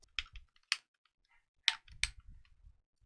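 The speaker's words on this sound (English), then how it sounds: "Let's type the password again to confirm it." A password being typed on a computer keyboard: a few quiet, separate key clicks spaced irregularly across a few seconds, close and alone.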